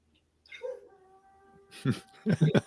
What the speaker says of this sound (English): Can you hear my dog in the background? Mm-hmm. He's howling.